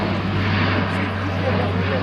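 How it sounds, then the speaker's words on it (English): An Airbus A400M Atlas turboprop transport makes a slow-speed fly-past at an air show, its propeller engines droning loud and steady with a constant low hum throughout. "as this slow-speed fly-past demonstrates, the aircraft can also fly slowly enough to act as an air-to-air refueling tanker"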